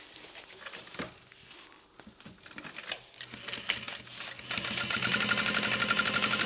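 A sewing machine top stitching a seam on a tote bag, starting with handling clicks and short bursts, then settling into a fast, steady mechanical rattle that grows louder near the end.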